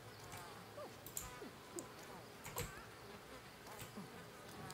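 Bees buzzing around honey in the prehistoric survival game Ancestors: The Humankind Odyssey, a faint, steady insect drone with a few sharper clicks and flutters.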